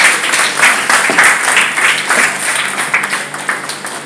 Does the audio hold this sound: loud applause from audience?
yes